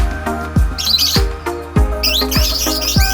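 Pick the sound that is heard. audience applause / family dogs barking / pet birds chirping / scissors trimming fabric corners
pet birds chirping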